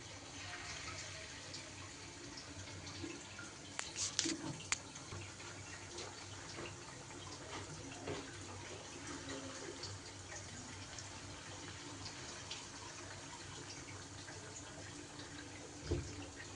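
Ripe mango batter fritters deep-fry in oil, giving a soft, steady bubbling hiss throughout with a few faint crackles and no talking.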